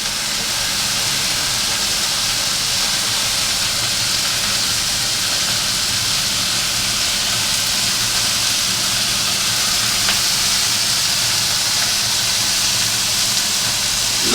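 A fish fillet for tacos sizzles steadily over medium heat in a frying pan after being flipped, giving a loud continuous hiss that stays even throughout with no talk.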